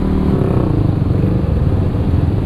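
A motorcycle rides along a busy road on a holiday trip, its engine droning steadily and loud up close, with wind and traffic noise mixed in.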